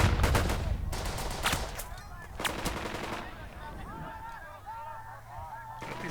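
Gunfire from a World War II squad-tactics game, sharp shots and bursts up front over a noisy battle bed, then distant chirping and honk-like cries later in the clip.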